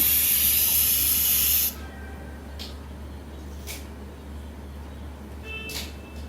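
Pressure cooker on a kitchen stove releasing a loud, steady steam hiss that cuts off abruptly after under two seconds, leaving a low hum with faint clicks.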